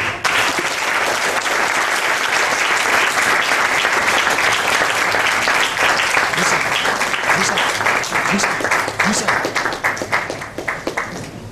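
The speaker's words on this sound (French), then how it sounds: "Sous vos acclamations, nous appelons la CAM Traoré, Karim et Benz." A large crowd applauds loudly and steadily for several seconds, then the clapping thins out and fades toward the end.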